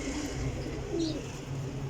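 A Sialkoti pigeon coos softly over low background murmur, a short, faint throaty coo near the middle of the moment.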